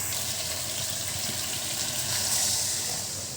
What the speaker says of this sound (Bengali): এখন উপর দিয়ে দিচ্ছি একটু ঝোল।